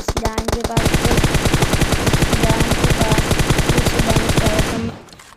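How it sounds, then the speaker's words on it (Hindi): Rapid automatic gunfire in a shooter video game, a dense near burst of steady shots hammering for about four seconds after a brief opening, with bullets striking stone, then cutting off abruptly. "जैसे ही मैं फायरिंग करना शुरू की तो काफ़ी सारी गोलियां स्टोन पे लगती है"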